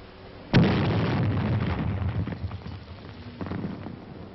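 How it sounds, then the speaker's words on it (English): Single sharp explosion of a hand grenade tossed into a wartime dugout, a sudden loud burst followed by a few seconds of crackling, rumbling debris and rain-like patter. "Toss in a grenade and let them divide it."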